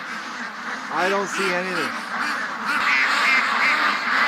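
Ducks quack from a calm, glassy lake in the morning, a short burst of nasal calls near the middle, with a person speaking over the steady outdoor background.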